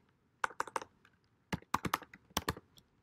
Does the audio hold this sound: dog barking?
no